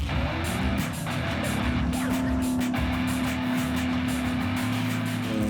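The engine of a Watercar Panther amphibious vehicle on the water revs and accelerates with a loud, continuous roar, accompanied by splashing and wind noise, with faint speech in the background.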